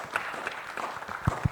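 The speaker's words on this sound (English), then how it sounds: "Please give a huge round of applause as we begin our first panel discussion for the day." Audience at an industrial automation conference session applauding to open a panel discussion, a moderate, fairly sparse clapping with a few sharper individual claps near the end.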